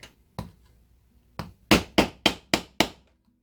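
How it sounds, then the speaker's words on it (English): Sharp hammer blows strike a rivet setter on leather: two spaced taps, then a quick run of five firm, evenly timed strikes, close and clear. "And then hammering it."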